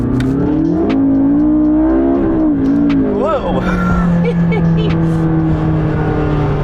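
McLaren MP4-12C supercar accelerating hard in its sharpest drive mode, the engine note climbing steadily under continuous loud running, with a driver's excited voice and talk over it.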